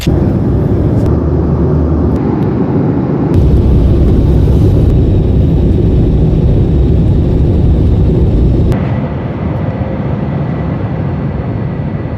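Steady airplane cabin roar from a passenger flight departing San Francisco, a loud continuous broadband engine and air hiss that shifts level slightly partway through, with no talking.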